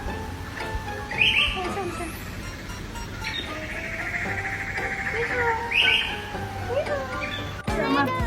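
A human voice imitates a bird, the 'bu bu bird' meme, with high chirping, bleat-like calls repeated in several loud bursts over background noise.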